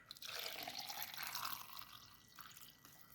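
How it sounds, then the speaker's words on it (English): Water pours and splashes in a short, faint stream into a blender, tapering off with a few trickles. "Going to add some water."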